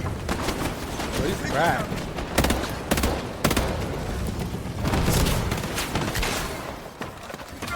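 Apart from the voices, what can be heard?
gunfire in the video game HighGuard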